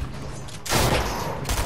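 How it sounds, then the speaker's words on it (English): A burst of rapid gunfire from a non-player character in Fortnite erupts after a quieter stretch, a dense, loud fusillade of shots running continuously for about a second. "Stop shooting at me, NPC."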